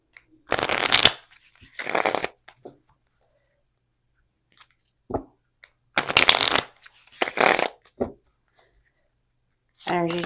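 A deck of tarot cards is shuffled by hand in several quick riffling bursts separated by pauses, crisp and close, with no talking.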